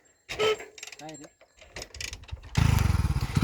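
A vehicle engine at a grape vineyard starts abruptly near the end with a loud, close, pulsing rumble, following brief talk and mechanical clicks.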